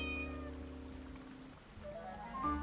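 A black cat meows in a cutscene of the Heartopia video game, a clear mid-level mew set against sustained game music and ambient tones, with no talk.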